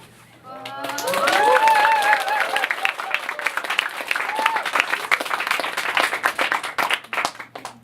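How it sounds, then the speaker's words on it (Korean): An audience at a university drama club's short-play performance bursts into loud, sustained applause and cheering, with high whoops rising over dense clapping that then carries on steadily before tapering. "여러분 힘찬 박수 함성 부탁드립니다"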